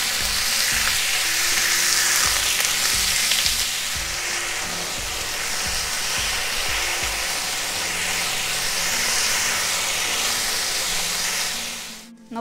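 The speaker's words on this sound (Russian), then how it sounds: "Теперь добавляю мясо и буду обжаривать все вместе" Meat and onion fry together in a pan, giving a loud, continuous sizzle and hiss with rhythmic stirring scrapes early on, close up and steady until it cuts off abruptly near the end, without speech.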